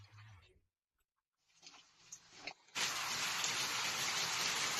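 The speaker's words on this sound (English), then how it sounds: "It was getting dark, and the rain grew heavier." Heavy rain outdoors on a mountain arrives as a sudden, dense, steady hiss after a near-silent pause broken only by a few faint rustles.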